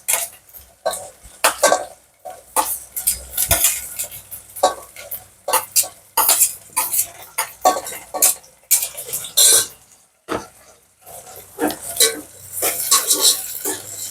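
Green chilies fry in a pan, with a low sizzle under frequent sharp clinks and scrapes of a utensil stirring against the metal, coming in quick irregular bursts.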